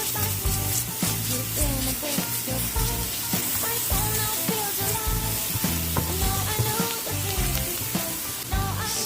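Garlic and onion sizzle loudly in a pan for a spicy eggplant dish, a dense, steady crackle close up, with stirring and intermittent clattering over the top.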